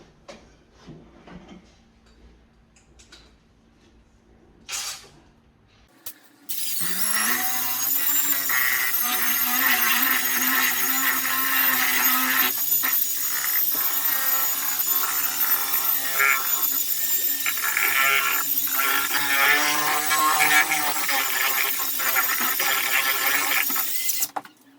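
Drywall joint compound is mixed with a power drill, a few soft knocks before a loud, close, continuous whirring churn that runs steadily for the rest of the clip.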